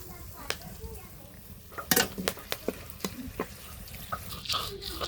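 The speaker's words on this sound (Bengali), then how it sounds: "এখানে হচ্ছে তেল দিয়ে দিছি গরম মশলা দিয়ে দিলাম" Oil and garam masala sizzle in a pan for a chicken roast: a steady, gentle frying hiss, punctuated by sharp clinks and scrapes of stirring utensils against the cookware.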